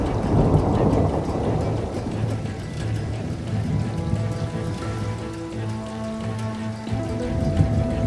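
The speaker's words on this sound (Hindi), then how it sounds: "पिछले 3 घंटों से जोरदार बारिश हो रही है।" Heavy, steady rain pours down with rolling thunder throughout, loud and close, with no voices.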